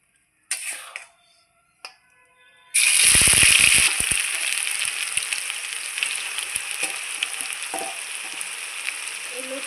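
Ground spice paste of onion, garlic and chilli hits hot mustard oil with a sudden loud burst of crackling sizzle after a few light clicks, then settles into a dense, steady frying hiss close by.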